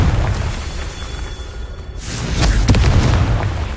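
A Confringo fire spell explodes in Hogwarts Legacy as a dense, rumbling burst that briefly drops away and then swells again into a louder roaring blast, with no voices.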